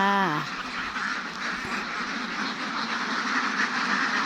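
Many ducks on a laying-duck farm quack in a dense, continuous chatter nearby at morning feeding, a busy flock murmur with one clearer call standing out at the start.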